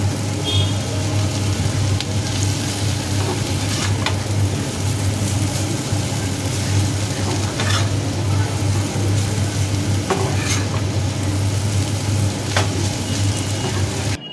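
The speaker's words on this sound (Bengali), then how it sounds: "চাউমিন দিয়ে ভালো করে নেড়ে চেড়ে নেব" Chowmein noodles stir-fried with vegetables in a pan make a steady, continuous sizzle, close up, over a low constant hum with occasional scraping clicks and no voices.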